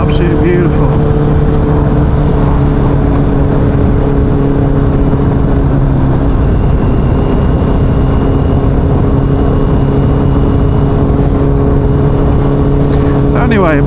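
Honda CBR motorcycle being ridden on a sunny evening, a loud continuous engine drone with strong wind rush throughout, while someone talks over it.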